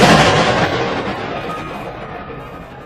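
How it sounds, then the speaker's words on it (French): A single loud gunshot from a Kalashnikov fired toward pavement, a sharp blast at the start that decays into a long fading echo over a few seconds. "Le tir provient d'un Kalachnikov."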